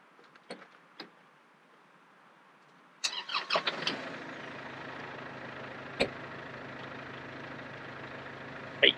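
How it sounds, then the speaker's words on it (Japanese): A tractor engine cranks and catches after a few seconds of near-quiet, with short rattling bursts, then settles into a steady, close idle. "ちょっとエンジンをかけて"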